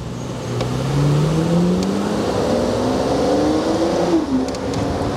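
Aston Martin V12 Speedster engine close by, its tone rising steadily as it revs up over several seconds, then a sharp drop with a few quick crackles as the throttle lifts, loud and alone.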